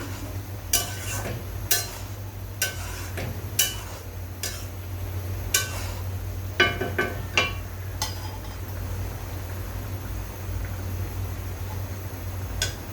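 Spice masala for egg korma is stirred in a pot, and a spoon knocks against the metal with a series of sharp, irregular clicks and taps over a low steady hum that go quiet toward the end.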